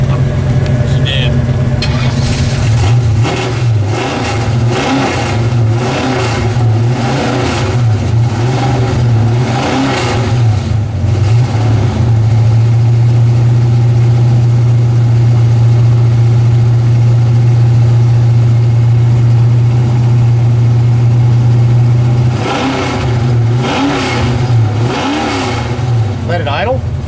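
A 1979 AMC AMX or 1970 Pontiac LeMans classic car engine on a road trip, revving in bursts then settling into a loud steady idle, with people talking over it.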